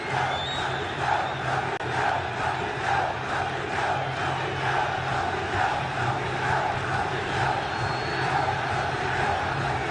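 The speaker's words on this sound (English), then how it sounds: "now you can just hear how that's riled up the crowd" A riled-up football crowd at an Africa Cup of Nations match roars in a steady, dense wash of voices, with chanting swells and a low drone running throughout.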